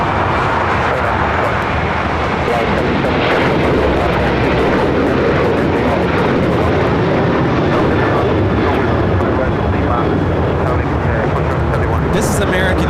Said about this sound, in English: This is American Airlines 1899 taking off to Indianapolis on the 737-800.